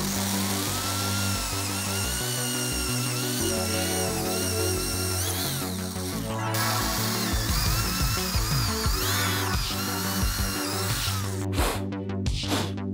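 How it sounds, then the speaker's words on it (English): Metal lathe with a cutter turning down a bolt shank to 3/8 inch diameter, a loud continuous whirring machine tone with shifting pitches and grinding texture, ending in a few sharp scraping bursts, and no talking. "I use the lathe and a cutter and just trim this down to 3/8 so it fits into this"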